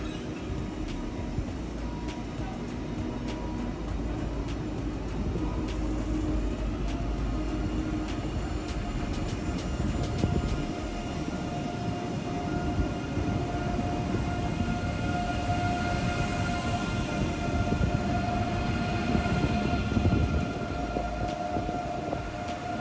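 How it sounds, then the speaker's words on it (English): A German ICE high-speed train powers up and pulls out of Arnhem station, a steady broadband rumble and rolling hiss with faint tonal whines building gradually, no voices. "The ICE's doors close and train 127 powers up and out of Arnhem."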